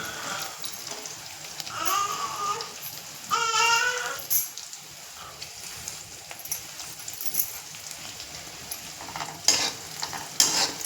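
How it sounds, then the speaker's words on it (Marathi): Onion and green chili frying in a pan for poha, a soft continuous sizzle with spatula stirring and scraping, some brief high tones from elsewhere in the room, no speech. "तर आपलं भाजत आलं आहे कांदा मिरची."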